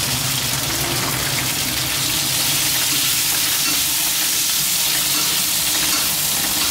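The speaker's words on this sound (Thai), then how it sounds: "เดี๋ยวเราจะตามด้วยผักกาดลงไปผัดเลยนะครับ" Chinese kale stems and leaves with salted fish stir-fried in a hot wok, giving a steady, loud, close sizzle with hissing and frying crackle that runs without a break.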